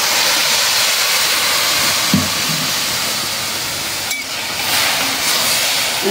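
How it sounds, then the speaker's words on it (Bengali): Water rapidly boiling in a very hot wok while khichuri is being cooked, giving a steady, loud broadband hiss and bubbling rush that runs throughout without a break. "পানি দিছি আর বলক এসে গেছে, এই কড়াই এত হিট হয়।"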